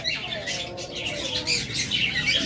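A grey Indian ringneck parakeet of a Holland line, a big bird, calling in short harsh squawks and chirps that repeat closely over a faint murmur of other birds nearby.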